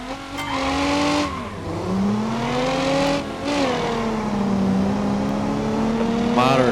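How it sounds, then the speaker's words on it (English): Engine revving hard with tire squeal as a car spins its wheels accelerating into second gear in the BeamNG driving game, a loud continuous roar with rising pitch sweeps and a brief dip at a gear change. "Moderate amount of wheel spin into second gear"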